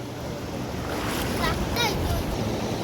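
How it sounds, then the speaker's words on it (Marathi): A strong, forceful village river in the Konkan during the rains rushes steadily close by, a broad continuous roar of water with faint splashing and voices in the background. "पाणी लय मोठं आहे नदीला दगड लागते."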